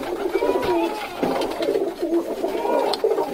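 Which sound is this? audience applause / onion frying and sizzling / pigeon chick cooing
pigeon chick cooing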